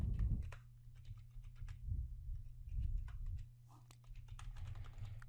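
Password being typed on a computer keyboard: a quick, irregular run of light key clicks over a steady low room hum, with short pauses between bursts of keystrokes.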